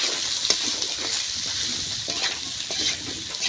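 Fish with turmeric is stirred in a frying pan, giving a soft steady sizzle of hot oil broken by a few faint scraping strokes of the spoon, close and with no talk.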